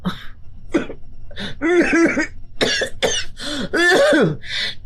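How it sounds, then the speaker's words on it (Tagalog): A woman coughs and clears her throat repeatedly up close, a run of harsh, rasping, rhythmic coughs in quick succession that grow louder and longer toward the end. "Tingnan mo nga sa bibig ka na humihinga tapos inuubo ka pa."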